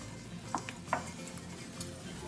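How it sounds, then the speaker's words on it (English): A quarter cup of flour being stirred quickly in a pan to make gravy for biscuits and gravy, giving a soft continuous scrape with a few light spoon taps against the pan, close and fairly quiet. "we're gonna add our flour, a 1/4 cup of flour, and we're gonna stir"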